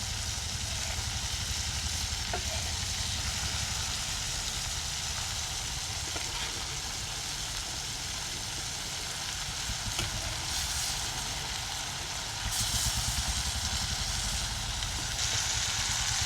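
Pieces of king fish, cut from a big 15 kg sea fish, fry in oil with a steady, dense sizzle that swells louder near the end; no one speaks.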